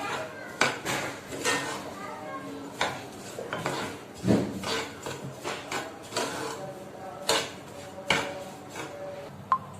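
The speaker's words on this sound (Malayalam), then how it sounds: "ഇനി നമുക്കിത് നല്ലോണം വറുത്തെടുക്കാം." A spoon scrapes and rattles against a pan while semolina roasts with cumin, carrot and onion, an irregular run of gritty stirring strokes and clinks at close range.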